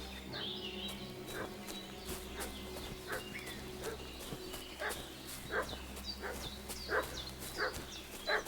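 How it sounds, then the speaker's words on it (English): A dog barks repeatedly at a moderate distance in the medieval village world of Kingdom Come Deliverance II, the sharp barks coming in irregular bursts over a low, steady outdoor hum. "What's that dog making such a fuss about?"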